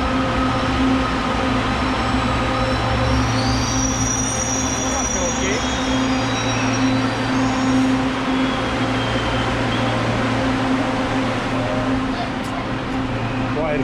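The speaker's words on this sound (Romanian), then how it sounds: "De fapt, e un tren pe șine." Interior of an elevated, above-ground metro train running on rails, with a steady close rumble, a low mechanical hum and faint wheel squeal throughout; the ride noise continues without a break.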